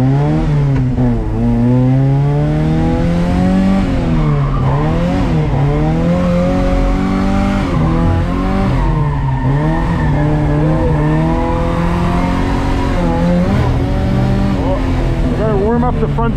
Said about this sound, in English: I'm gonna go peel a couple laps in the gold car on the back track